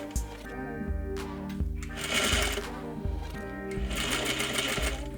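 A sewing machine stitches bias tape across the front and back rise seam of wide-legged trousers, its needle chattering in a steady, close mechanical rhythm with brief pauses and speed changes.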